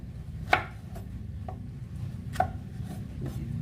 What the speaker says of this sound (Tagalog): Tapos hiwain natin ng ganito, square.